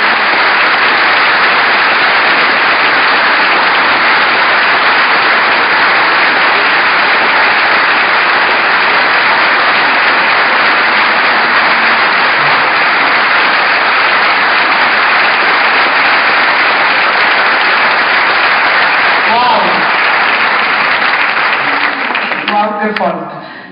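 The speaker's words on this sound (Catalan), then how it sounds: "Un aplaudiment per Patricia Calvins." Loud, dense applause fills a hall at a Catalan National Assembly presentation in Tarragona, honouring an author with an unbroken roar of clapping for over twenty seconds before it tails off abruptly at the end.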